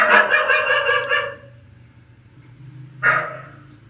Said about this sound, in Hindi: कमरे में क्यों भौंक रहा है ये?